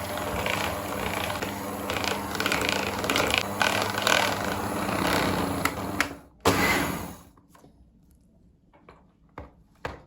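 A steady motorized whirring with a faint mechanical rattle runs for about six seconds, then cuts off, leaving near silence with a few small clicks.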